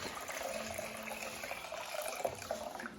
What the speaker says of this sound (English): Then I've got their probiotic water that I'm gonna fill the water with.